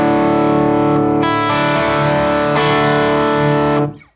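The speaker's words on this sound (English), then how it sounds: "when you hit it with the boost pedal in front of the overdrive pedal, you get a much more saturated sound" Saturated electric guitar through a boost pedal placed before an overdrive pedal, loud sustained chords with a few bright re-strikes, ringing for several seconds before stopping abruptly.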